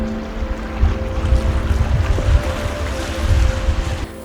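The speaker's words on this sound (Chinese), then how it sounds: "你可以听见海浪的声音" Sea waves on a beach by a small private harbour at a Norwegian fjord, a loud, close, rolling low wash of water swelling and easing, with wind noise buffeting the microphone and no voices.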